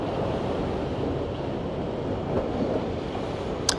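Water waves wash and splash steadily at a riverside in Rotherhithe, a broad rushing roar mixed with wind noise and no talking.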